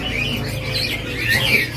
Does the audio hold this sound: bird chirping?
yes